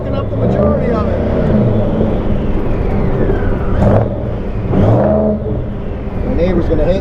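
Heard from inside, a 1965 Ford Mustang engine drones and rises in pitch as it accelerates along a street, with surges building and easing, partly under a voice talking.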